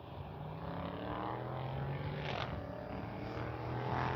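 An FMS Pilatus PC-21 radio-control model plane flies past with flaps and landing gear down, giving a steady buzzing motor drone with a rising and falling pass over continuous outdoor noise.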